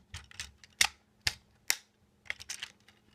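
Plastic parts of a Transformers Titans Return Leader Class Six Shot figure click sharply as a tank tread is folded: a short run of close, crisp snaps and ticks with brief pauses between them.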